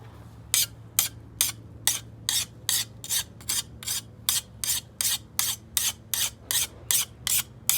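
A small hand file sharpens the edge of a garden stirrup hoe in steady, evenly spaced rasping strokes, about two per second, close and crisp, with no talking.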